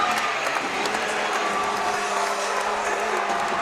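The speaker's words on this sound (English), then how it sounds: "You just hear the fans for Alleo in this fight." A large crowd at a fight event roars and applauds continuously after a TKO, a dense, steady wash of cheering that carries at even loudness throughout.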